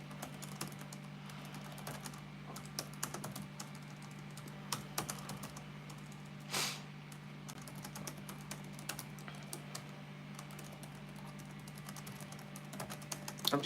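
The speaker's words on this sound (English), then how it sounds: "I'm just typing some notes here in the chat" Someone types on a computer keyboard during a livestream, producing a quiet, continuous run of light clicks over a steady low hum. There is no speech.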